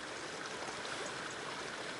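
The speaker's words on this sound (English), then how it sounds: "Now I think this might be Morrison Creek" Morrison Creek flows along the Colorado Trail in the mountains, a steady close rushing babble of stream water with no voices.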